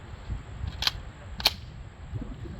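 Two sharp shots from a KelTec Sub 2000 Gen3 rifle fired at a range berm, spaced about half a second apart, heard from a distance over faint background noise.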